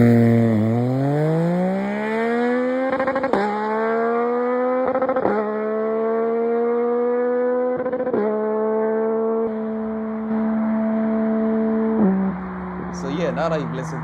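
A Yamaha MT09 motorcycle accelerating hard through the gears, its engine note climbing steadily with sharp quick-shifter cuts at each upshift, five or so shifts in a row, close and loud, with a voice speaking briefly near the end.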